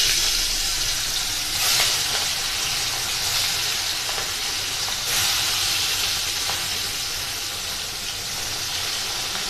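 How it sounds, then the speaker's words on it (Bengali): Hilsa fish pieces rubbed with salt and turmeric frying in hot mustard oil, a steady close sizzle throughout with occasional louder spits and crackles. "তো প্রথমে আমি ইলিশ মাছগুলো ভেজে নেব"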